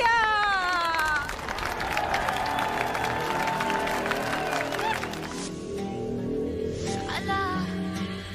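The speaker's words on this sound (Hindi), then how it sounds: "तालियां।" Audience applause and cheering at a televised stage show swell over loud music with bright tonal flourishes, the clapping dense and continuous throughout.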